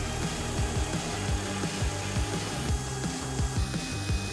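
Power tool drilling holes in metal to mount a Holley ECU on a Coyote-engined twin-turbo 1932 roadster, heard as a steady close whirring grind with a rapid rhythmic ratcheting pulse running through it, no voices.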